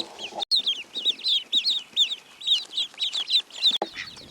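Newly arrived baby chicks peep in a rapid, steady series of high, bright chirps, close and continuous, with a few soft clucking notes underneath and no talking.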